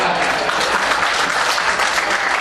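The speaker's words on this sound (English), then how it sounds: "Still a round of applause for Return of the Living Dead" An audience at a Horror Realm convention panel gives the Return of the Living Dead cast a loud, dense round of applause that holds steady throughout.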